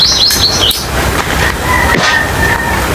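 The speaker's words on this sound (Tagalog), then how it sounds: "may mga naririnig kayong mga huni ng ibon" Birds in a forest chirp and whistle in quick, repeated calls over a loud, constant rush of background noise.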